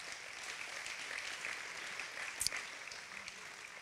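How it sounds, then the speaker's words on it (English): Audience at a gospel concert claps steadily, a soft, even spatter of applause with one sharper burst midway. "Give yourself an applause for being here."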